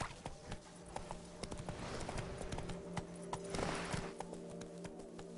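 In The Witcher 3, a horse gallops with steady rhythmic hoofbeats under a low hum, fairly quiet and even throughout, with no speech.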